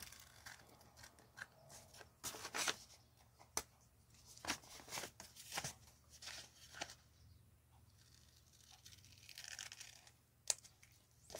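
Scissors snip through paper following a traced line, producing a quiet sequence of short crisp cuts and crinkles at an uneven pace, close by with no talking.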